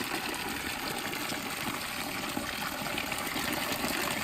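Hot drinking water pours steadily from a dragon-shaped spout at an outdoor fountain, a continuous close hiss and splash that holds unbroken and fairly loud throughout.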